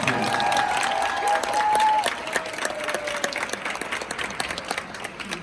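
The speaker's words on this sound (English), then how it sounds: "So another round of applause for the girls cross country team." Steady applause from a crowd at a school cross country team gathering, dense clapping throughout with a sustained tone running under the first half, easing slightly in the second half.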